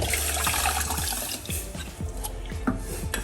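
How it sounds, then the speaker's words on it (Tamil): Tamarind water pours and splashes into a pot of garlic rasam, a short sloshing burst with small gurgles and drips. "இப்போது நம்ம இதில் புளி தண்ணி வந்து இதாக எடுத்து இப்போ நம்ம இதை ஊற்றிடலாம்"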